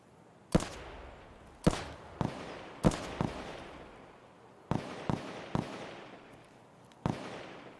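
Gunfire from the video game Escape From Tarkov, heard as about ten sharp, fairly loud shots in irregular single and paired bursts, each ringing out with a long reverberant tail and echoing off the surroundings.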